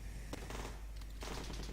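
Gunfire rings out in a zombie defence video game, with quick repeated shots in short bursts over a steady background hum.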